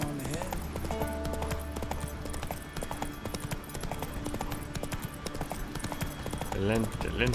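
Roach, Geralt's horse in the video game The Witcher 3, gallops with a dense, rapid run of hoof clip-clops, steady and close, with a brief neigh near the end.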